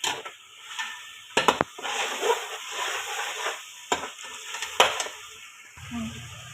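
Pulao ingredients frying in oil with salt, a soft sizzle broken by several sharp clinks and scrapes of a spoon against the pot, heard close up with no talking.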